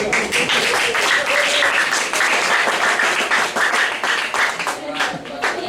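An audience at a research presentation session claps for several seconds, a fairly close patter of many hands with a voice briefly audible alongside.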